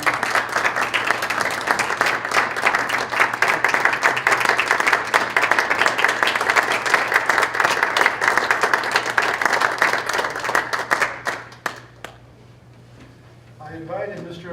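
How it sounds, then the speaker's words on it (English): Audience applause at a board meeting honoring a retiring board member, a steady burst of clapping lasting around eleven seconds that thins out and stops, followed by a brief voice. "Would everyone please join me in a round of applause for this"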